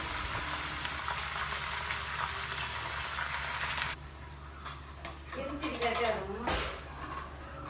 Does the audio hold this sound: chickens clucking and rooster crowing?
no